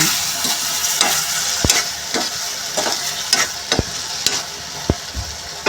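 Round brinjal and green toor sabzi sizzling in a pan while being stirred, a constant loud fry hiss broken by regular scraping and knocking strokes of a spoon, close and no talk.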